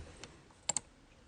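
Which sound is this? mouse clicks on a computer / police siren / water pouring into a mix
mouse clicks on a computer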